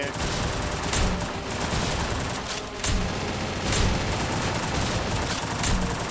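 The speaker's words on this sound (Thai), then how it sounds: "ยิงรัวๆเลยครับผม" Rapid automatic gunfire from the Free Fire video game, a dense continuous rattle of shots with a few heavier booms, loud and steady throughout with no pauses.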